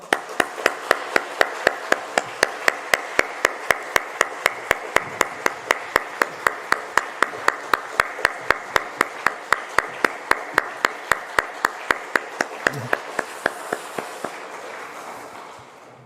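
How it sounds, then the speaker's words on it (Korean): A church congregation at a family dawn prayer service claps together in a fast, steady unison rhythm for about fourteen seconds, sharp even beats close and loud, then stops, leaving a soft room hush. "크게 박수하겠습니다."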